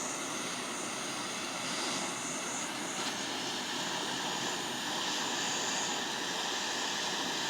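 A gas torch flame roars steadily and close while heating aluminum for brazing, with the fuel tank nearly empty; the even, hissing rush holds without a break.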